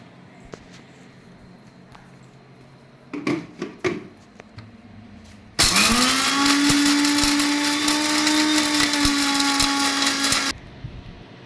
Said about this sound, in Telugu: కొబ్బరి, ఉప్పు, పసుపు, కారం అండి, అన్నింటినీ పౌడర్ చేసుకుందాము. మిక్సీ చేసుకుందాము.